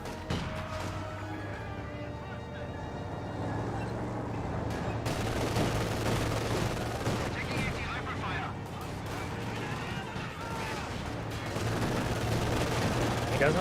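Dense gunfire and explosions from an M15 half-track and mortars in the World War II video game Company of Heroes 2, with sustained rapid bursts and heavy impacts that stay loud throughout, under continuous talk.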